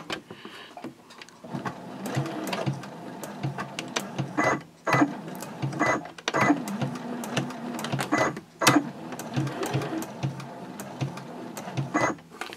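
A sewing machine stitches a reversible drawstring gift bag in short, uneven bursts with clicks and pauses as the fabric is pivoted.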